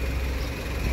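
Mercedes-Benz 1626 bus engine idling nearby, a steady low mechanical rumble with a faint pulsing throb, heard alone without talk.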